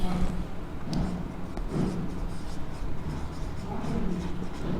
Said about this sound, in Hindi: इसके बाद में बेटा एक पॉइंट और लिखते हैं हम